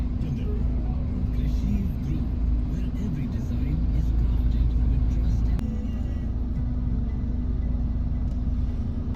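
Steady road traffic passes in both directions, a continuous low engine rumble with occasional louder vehicles, heard close and loud throughout with a person talking over it.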